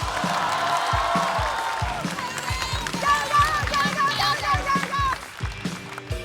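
Studio audience at a Chinese stand-up comedy competition applauding and cheering as a comedian is welcomed to the stage, a steady wash of clapping with whoops, continuous and fairly close, with voices mixed in.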